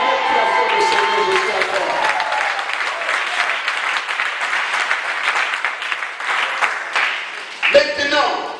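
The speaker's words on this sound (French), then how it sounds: "Acclamez très fort le Seigneur" A church congregation applauds the Lord in a steady, dense wave of clapping that carries on for several seconds, with cheering voices mixed in and a brief shout near the end.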